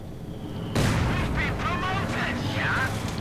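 A mortar barrage in the strategy game Company of Heroes 2 starts with a sudden loud blast, followed by a rumbling battle bed with whistling, warbling tones over the top.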